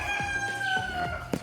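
Chickens on an East African chicken farm, several birds clucking with rising crow-like calls, close and fairly loud, a dense continuous flock din throughout.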